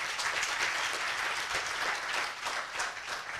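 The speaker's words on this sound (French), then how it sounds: "On va l'applaudir très très fort." An audience applauds loudly for a woman honoured for promoting Ivorian culture, a thick, sustained burst of clapping with slight swells, heard alone without talk.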